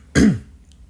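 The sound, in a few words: throat clearing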